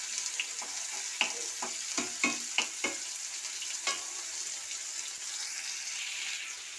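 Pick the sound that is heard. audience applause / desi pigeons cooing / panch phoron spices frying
panch phoron spices frying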